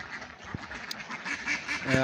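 A group of ducks quacks softly and repeatedly, the calls overlapping, with faint voices in the background.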